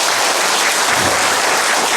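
Applause from an audience at a social economy fair rally fills the space, dense and loud, steady clapping with no pauses throughout.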